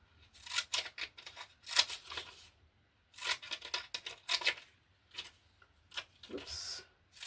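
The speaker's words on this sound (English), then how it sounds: "maybe use another fancy scissors" Close, quiet snips of decorative scissors cutting paper in short bursts, with pauses between cuts and occasional soft rustling.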